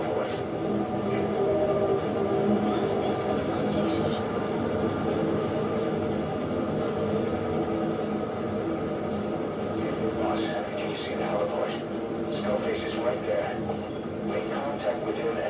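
An enemy helicopter arriving in the Metal Gear Solid V video game, a steady droning rotor and engine roar throughout, with voices speaking over it.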